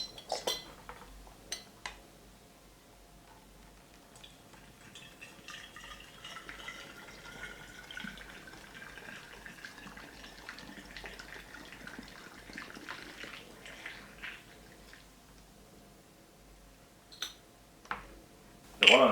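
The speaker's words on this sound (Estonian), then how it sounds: "Siis paneme tulise vee välja." Hot water glugs and splashes as it is poured out of a bottle, a fairly soft uneven stream with a few sharp clinks of glass near the end.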